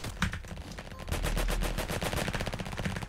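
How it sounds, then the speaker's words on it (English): Rapid minigun fire from several players in the Roblox game Flag Wars, a continuous loud mechanical rattle of rounds that grows heavier and denser after the first second, with no talk. "They all have miniguns."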